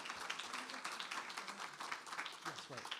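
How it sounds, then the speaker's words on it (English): Applause from an audience closing a faculty presentation evening, a quiet, distant patter of many hands clapping, with scattered voices chatting over it. "Big round of applause for Melissa, Cameron, and Ilana"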